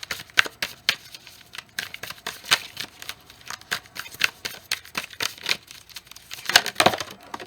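Moonology oracle cards being shuffled by hand, a run of crisp papery riffles and slaps in irregular bursts, close and fairly loud, with a denser flurry near the end.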